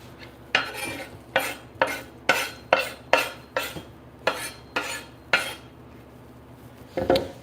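A knife chops an onion for beef stew on a cutting board with about ten sharp, evenly spaced thuds, close and clear, then one last chop after a short pause.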